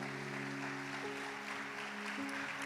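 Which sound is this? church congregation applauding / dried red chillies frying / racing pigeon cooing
church congregation applauding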